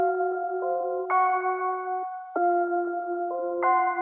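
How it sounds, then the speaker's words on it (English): Bright synth bell tones play a stepped counter melody in a hard trap-style synth beat, sustained chords shifting by semitones with a brief gap midway, loud and upfront with no talking. "I just want to add like another like counter melody in there. And I got this bell tones"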